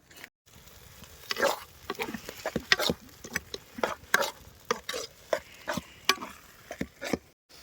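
Maggi noodles with egg cook outdoors in a pan as a soft sizzle runs under repeated scraping and stirring strokes of a utensil, irregular and close, with brief quiet gaps.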